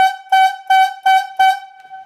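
A logging yarder whistle, loud and close, blows four evenly spaced short blasts of a steady pitched tone with brief gaps between them, and no one speaks.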